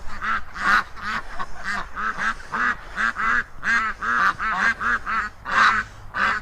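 Runner ducks kept with Aylesbury ducks quack loudly and continuously in an alarmed, agitated chorus, close by, with rapid overlapping calls throughout.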